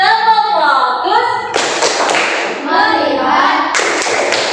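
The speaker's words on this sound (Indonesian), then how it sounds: "Yuk, tepuk fokus." Classroom focus clapping (tepuk fokus) in an Islamic religious education lesson, sharp hand claps and thuds in rhythmic bursts, with a children's chant and voices running through them.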